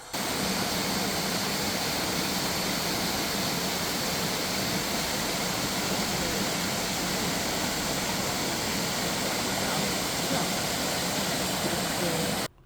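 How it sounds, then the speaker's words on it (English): A waterfall in Canada roars as a steady, dense broadband rush that stays loud and unbroken for about twelve seconds, then cuts off. "But we went to a waterfall. Have a listen."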